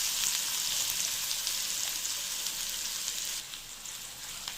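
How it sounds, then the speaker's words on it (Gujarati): Finely chopped onions and curry leaves fry with asafoetida in hot oil, giving a steady close sizzle that softens slightly toward the end. "હવે આ ડુંગળીને થોડીવાર સાતળવાની છે, થોડી ગોલ્ડન બ્રાઉન થાય ત્યાં સુધી."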